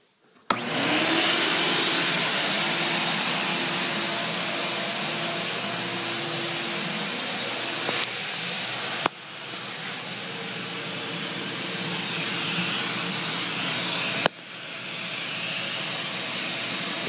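A cyclone dust collection system in a woodworking shop runs with its suction drawn at the miter saw, giving a steady, loud roaring whoosh that shifts in level with two sharp knocks partway through.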